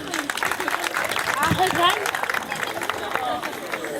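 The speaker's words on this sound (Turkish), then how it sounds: "Bana kocaman alkış ne olur" Audience applause at a Turkish theatre comedy staged as a beauty contest, a steady wash of clapping with crowd murmur and a voice rising over it midway.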